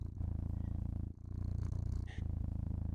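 A cat purrs loud and close in a steady, rhythmic rumble, the cycle breaking briefly twice as the cat draws breath.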